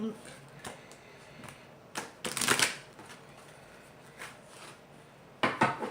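Tarot cards being shuffled by hand, soft riffling and tapping bursts at irregular intervals, close and fairly quiet.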